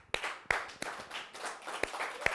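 Audience clapping on a talk show, a thin scattered patter of hands punctuated by several sharp, louder individual claps.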